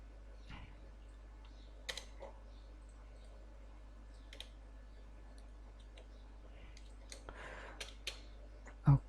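Text being typed on a computer keyboard during Photoshop work, sparse soft keystrokes scattered over a quiet background hum, ending in one louder tap.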